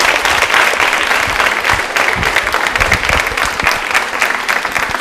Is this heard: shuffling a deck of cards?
no